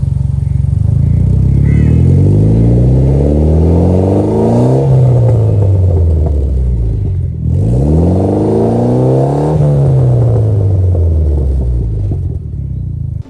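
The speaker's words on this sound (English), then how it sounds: "you have your Tomei's straight pipe exhaust that is" Mitsubishi Lancer Evo X with a Tomei straight pipe exhaust revving hard twice, each loud, close run climbing sharply in pitch and then sliding back down to a rumbling idle.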